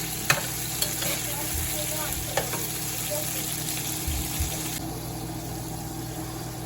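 Prawns frying in oil in a pan, a steady close sizzle with occasional stirring clicks and scrapes over a low background hum.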